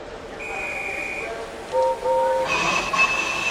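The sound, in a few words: steam train whistles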